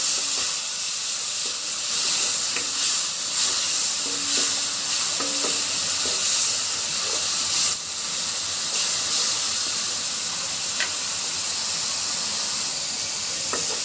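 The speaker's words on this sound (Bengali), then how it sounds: "মশলাটা খুব সুন্দরভাবে কষানো হয়ে গেছে।" Ginger, garlic, coriander and cumin paste frying in a pan while being stirred, a steady loud sizzle with repeated scraping strokes of a spatula throughout, no voices.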